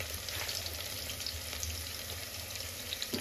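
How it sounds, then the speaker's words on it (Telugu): Curry leaves dropped into hot oil with frying onions hiss in a steady, close sizzle that continues with little change and no voices. "దీంట్లో ఇప్పుడు నేను కొంచెం కరివేపాకు వేస్తాను"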